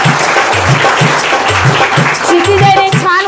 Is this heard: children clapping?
yes